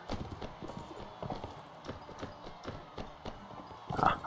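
A horse gallops in the medieval tournament game Mount & Blade: Warband, its hooves drumming in a quick, even clip-clop pattern, close and fairly loud, with a brief whinny-like burst toward the close.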